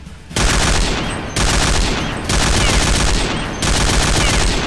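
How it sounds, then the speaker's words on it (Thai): Gunfire bursts of three to five rounds from a weapon in the shooter Point Blank, four loud sustained volleys separated by brief gaps, close and alone with no talk. "ยิงเป็นชุดนะครับ3-5 นัด"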